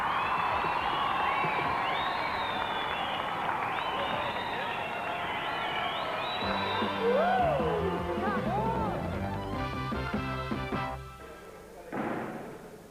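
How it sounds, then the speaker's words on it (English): A crowd claps and cheers for riders at an old-school 80s BMX flatland and ramp competition, with whistles and shouts over the applause. Music then comes in and the crowd noise fades out. "let's have a round of applause for all the riders"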